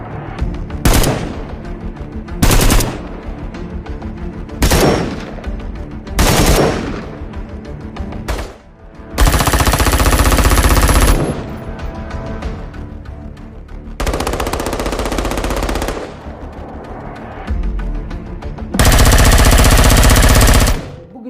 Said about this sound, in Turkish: birebir gerçek silahlardan alınmış seslerden oluşan yeni bir ses kütüphanesine geçtik